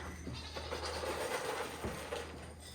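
Goats on a homestead bleat a few times at a moderate distance during morning feeding, their wavering cries rising over a low background hum.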